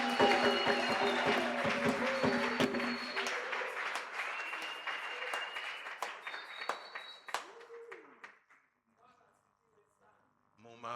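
A church congregation applauding during a Sunday service, loud sustained clapping mixed with voices that fades out over the second half, leaving near silence with a brief burst at the end.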